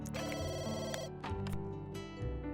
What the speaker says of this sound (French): Vu que c'est pas ton téléphone qui sonne.